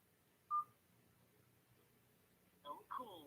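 A telephone keypad sends a single short dialing tone, faint against a quiet room. A few seconds later a person starts speaking.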